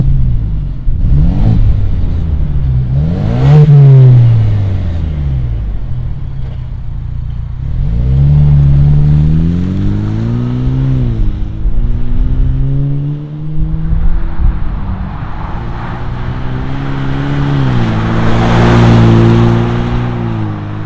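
A 2.3L four-cylinder Ford Ranger with an aftermarket exhaust revs repeatedly, deep growling swells rising and falling close by, alone without talk.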